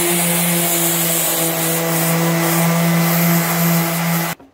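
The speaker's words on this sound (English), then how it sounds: "so we're in here sanding these doors" Steady, loud abrasive whirr of a power sander working continuously on wooden kitchen cabinet doors, with a constant droning hum, cutting off abruptly at the end.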